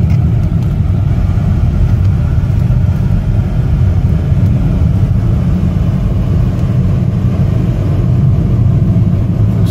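A 2015 Chevrolet Malibu LS pulls ahead on the road, its engine a steady, loud low rumble mixed with road and tyre noise from inside the cabin, with no speech.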